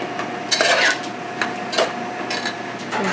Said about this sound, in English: we can stir in the jackfruit until the liquid is dry